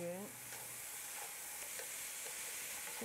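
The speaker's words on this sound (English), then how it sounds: "Keep stir frying." Shredded potato strips stir-fried in a pan with sushi vinegar give a steady soft sizzle, broken by light scraping strokes of the spatula at an even pace, close and fairly quiet throughout.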